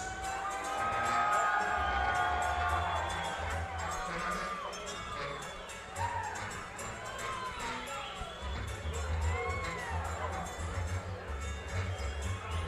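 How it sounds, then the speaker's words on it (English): A fight night crowd cheering and shouting as a fighter is introduced, loud and sustained with whoops and yells rising and falling, and voices heard among the roar. "Got a good crowd here tonight."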